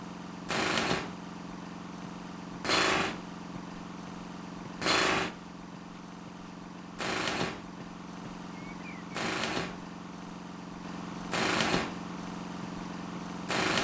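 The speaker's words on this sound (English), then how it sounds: "It was the compressor that powered the pneumatic drill." In the Broken Sword 3 video game, a compressor-driven pneumatic drill fires in six evenly spaced short rattling bursts about two seconds apart over a constant machine hum.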